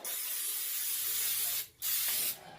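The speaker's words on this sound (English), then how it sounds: "I'm going to spray a little bit of pan baking spray in here." Pan baking spray hisses into a cast iron skillet in a long steady burst, then breaks off briefly before a second shorter spray, close and fairly quiet.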